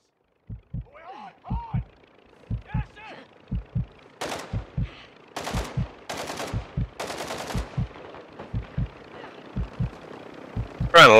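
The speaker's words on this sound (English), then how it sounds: "I don't know where I'm getting shot from" Gunfire in Call of Duty DMZ: bursts of rapid automatic shots crack out in clusters over low, regular thumping, while a voice talks briefly near the start.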